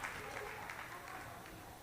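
Small, quiet crowd at a girls' varsity high school basketball game reacting to a shot, a soft, steady patter of applause and murmuring heard from a distance, with faint talk mixed in.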